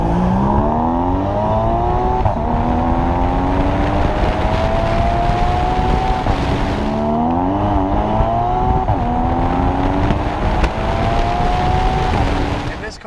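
A 2015 Porsche Cayman GTS with the 7-speed PDK dual-clutch automatic accelerates hard. The engine note climbs loudly through repeated gear changes, each shift dropping the pitch before it rises again, close and continuous.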